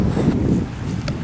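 A strong gust of wind blows beside the River Avon Ystrad, producing a steady, loud low rumble and buffeting across the mic with a faint hiss above it. No one speaks.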